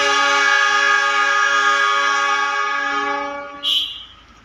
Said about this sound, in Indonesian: Kita dengarkan lokomotif CC206 Semboyan